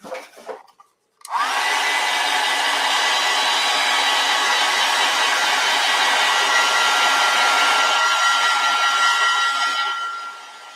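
A hair dryer blows steadily on fresh acrylic paint of a snowy winter cottage scene, switching on after a brief pause and then running as a loud, even whoosh for about nine seconds before winding down.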